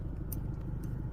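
Low, steady engine rumble of cars rolling slowly over a speed hump on a road used by dump trucks hauling sand and gravel, heard at moderate distance with faint higher ticks, no talk.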